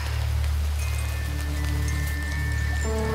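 Steady rain falls in the horror game The Quarry, at an off-season summer camp around a bonfire, as a continuous hiss of drops with low sustained tones beneath it.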